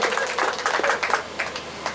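An audience applauds at a Hindi poetry gathering (kavi sammelan) in Mapusa in 2017, with a short flurry of hand claps that sounds moderately close and unaccompanied by speech.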